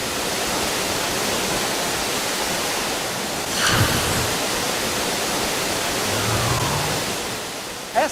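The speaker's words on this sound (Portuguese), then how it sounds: "essa cachoeira de Santa Bárbara é um diamante" Santa Bárbara waterfall in Chapada dos Veadeiros, a steady, dense roar of falling water, loud and continuous throughout with a brief disturbance midway.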